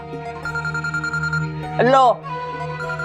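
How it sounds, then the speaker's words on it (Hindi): A phone rings in a steady repeating electronic pattern, briefly interrupted as a voice speaks a short word over it. "फिर आ गया फोन, उठा लो"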